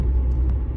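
A car drives at normal speed along the winding mountain road between Fluminimaggiore and Iglesias, a steady low engine and road rumble heard from close by, with brief faint rattles and no voices.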